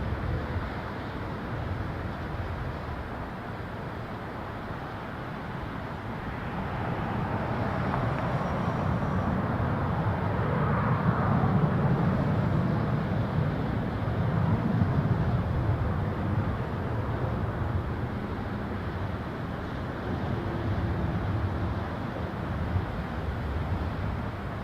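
A jet airliner taking off from runway 06 left at Toronto Pearson Airport, a broad, steady roar that swells and holds loud for over twenty seconds, mixed with wind noise on the microphone.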